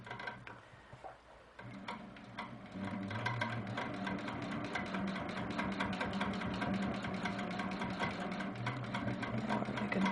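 A sewing machine stitches small attached quilt-block triangles in one pass, a fast steady mechanical ticking hum that runs continuously and close up, with no talking.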